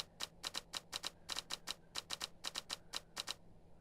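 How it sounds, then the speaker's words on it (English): Typewriter-like clicks from the puzzle game Strange Horticulture come in quick, crisp bursts of two and three, steady and close against a faint low hum, with no voices. "Can I just say I really like this clicking sound?"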